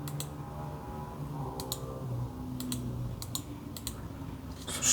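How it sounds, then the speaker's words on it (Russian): Mouse button clicks from a RAWM SA computer mouse, a series of sharp, close clicks in small bunches over a quiet background hum. "Слушайте, очень приятные клики."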